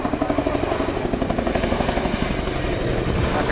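An RAF Chinook helicopter flies at an air show, its twin rotors producing a loud, rapid, pulsing thump over a dense engine roar that stays close and constant.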